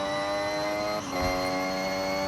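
Sustained, steady whine of an endurance race car engine in Forza Horizon 6, its tone holding with a brief dip and recovery midway, loud and alone without talk.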